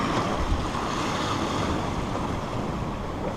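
Sea waves wash steadily around a sailboat under way at about six knots off the French Riviera, a continuous loud rush mixed with strong wind buffeting the microphone, no voices.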